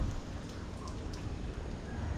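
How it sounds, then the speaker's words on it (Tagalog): Steady rain sets in at the top of a long mountain bike ride, a soft even hiss of falling drops without voices or clear riding sounds. "Ito na kami sa taas. Inaabot na ng ulan."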